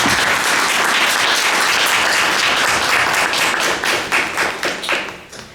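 Audience applause welcoming the panelists at an evening artist talk, dense and sustained clapping from a seated crowd that thins into scattered individual claps toward the end.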